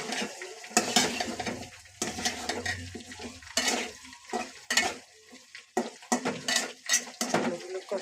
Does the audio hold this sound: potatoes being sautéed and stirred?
yes